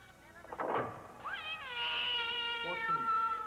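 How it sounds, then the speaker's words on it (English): A cat lets out a long, drawn-out meow that bends upward and then fades, loud and near, preceded by brief clatter and a short vocal sound. "could you put the cat out?"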